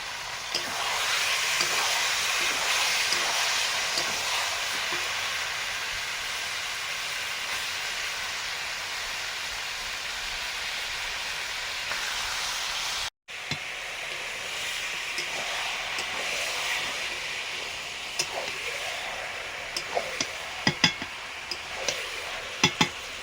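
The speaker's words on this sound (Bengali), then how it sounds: "মশলা কষানোর পরে মাংস দিয়ে দিচ্ছি।" Meat is added to fried spices in a pan and stirred. Steady loud sizzling and frying runs throughout, with a brief cut midway, then continued sizzle with scattered clinks of stirring.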